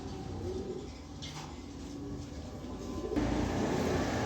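A pair of black racer pigeons cooing in low, rolling murmurs over a steady background hum, close and continuous with no talking.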